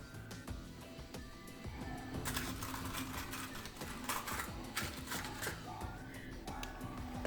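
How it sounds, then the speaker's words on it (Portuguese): A sewing machine runs a zigzag stitch along a fabric edge for a pencil case, its rapid mechanical clatter steady and close with brief pauses and changes in pace. "E vou prender com zigue-zague aqui toda essa borda."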